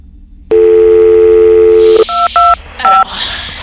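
Telephone dialing tones in a Minecraft Doctor Who episode: a steady, loud dial tone holds for about a second and a half, then three or four short keypad beeps follow in quick succession.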